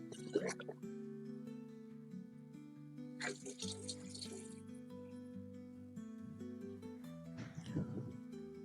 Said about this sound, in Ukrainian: І додаю літру цього розчину